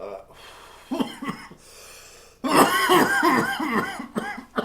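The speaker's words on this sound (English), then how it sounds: "here come the coughs." A burst of harsh, repeated coughing breaks out after a few earlier coughs, close and loud, in rapid ragged fits.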